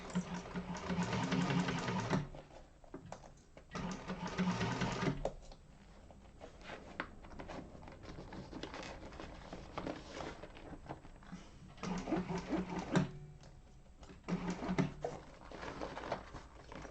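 A sewing machine stitches a Yoshi Sling bag in bursts, rapid mechanical whirring runs of a few seconds each separated by pauses, close and moderately loud.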